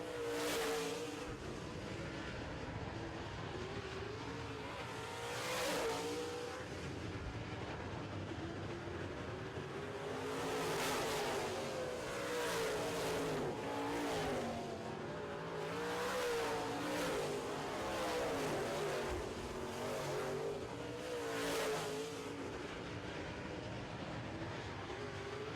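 Late model stock cars race around an oval track late in a feature event, engines roaring continuously with repeated swells as cars sweep past, a dense, sustained racing drone without talk.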